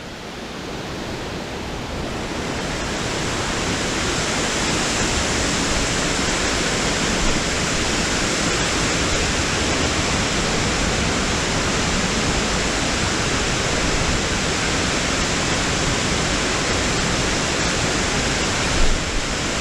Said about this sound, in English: So this is how the waterfalls look.